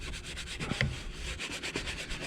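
A sprayed brush lightly agitating the rubber interior trim of a Ford, a rapid run of close, soft scrubbing strokes in a quick, regular back-and-forth rhythm, with no talking.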